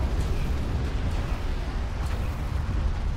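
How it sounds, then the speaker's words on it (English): A point-blank cruise missile explosion in the Deserts of Kharak strategy game makes a loud, sustained rumbling roar with heavy low-end blast noise that stays dense for the full few seconds. "Nice point blank cruise missile."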